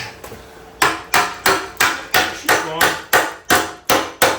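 About ten sharp metallic strikes from a hammer wrench land in a steady rhythm, loud and close, each ringing briefly; a voice speaks briefly before the hammering begins.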